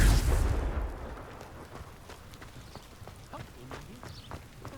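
A Confringo explosive spell in Hogwarts Legacy bursts loudly at the very start, a short heavy blast that quickly fades into quieter scattered game sounds and light footstep-like taps.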